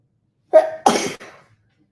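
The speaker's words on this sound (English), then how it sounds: "I got to sneeze." A single close sneeze from one person in a quiet room, a short sharp inhale followed by a strong explosive burst, then a brief softer tail.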